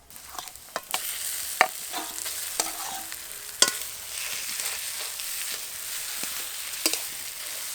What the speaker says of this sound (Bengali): মাখা আলুটাকে এবার মশলার সাথে ভালো করে কষিয়ে নেব।